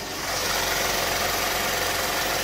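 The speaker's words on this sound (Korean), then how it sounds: "굉장히 정숙하고 규칙적인 엔진 사운드 들려주고 있고요" A Genesis BH sedan's engine idles steadily and evenly with the hood open, a low continuous hum with a faint regular knock, close up and unbroken throughout.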